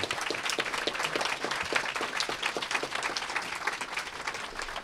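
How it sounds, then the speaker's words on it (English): Audience applause for a Ferguson activist and artist at a talk on Black Lives Matter, a steady dense patter of many clapping hands sustained throughout at moderate level. "I want to give him a round of applause here."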